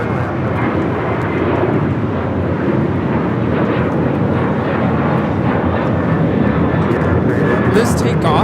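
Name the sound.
Alaska Airlines Boeing 737-900ER taking off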